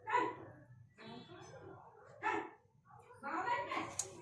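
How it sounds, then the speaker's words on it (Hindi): A dog whines and yelps in short, uneven bursts, mixed with nearby talking voices. "ऐसी सुबह आज इनको कुत्ता रो रहा है बहुत बुरी तरीके से।"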